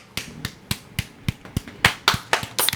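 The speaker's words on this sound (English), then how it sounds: "Hey, clap it up." About a dozen sharp, close hand claps land in a steady rhythm, loud and distinct with no talking over them.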